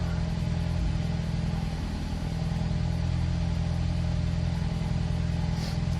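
A Ford EcoBoost engine idles on a cold start with misfires, a steady, dense low rumble that runs continuously and close, with no talk.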